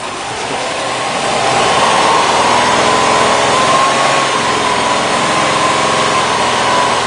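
A misfiring Subaru engine is revved, holding a loud, rough, steady whine with a constant high tone and no clear rise or fall.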